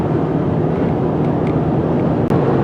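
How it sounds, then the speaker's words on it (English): Steady broadband wind-like rush of air from the air conditioning blowing across a microphone inside a 2017 Lexus NX200t, constant and fairly loud with no talking. "Most of the wind noise you're hearing on the microphone isn't really from the vehicle, it's from the air conditioning"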